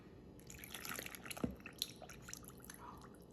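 Water poured into a container for a smoothie, a quiet trickling with scattered drips and splashes, close and faint, no voices.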